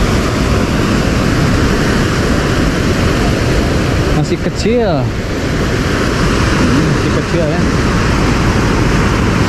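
Fast-flowing river water rushes at the Leuwikeris dam on the Citanduy River, a loud, unbroken broadband roar, with a person speaking briefly partway through.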